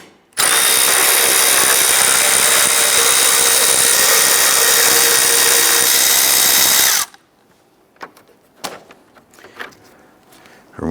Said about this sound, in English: use our 10mm socket, loosen and remove the series of bolts across the front